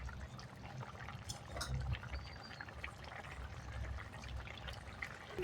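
Tamarind water pours into a simmering dried-fish curry, a faint, steady liquid trickle and splash heard close but quietly against low kitchen background noise.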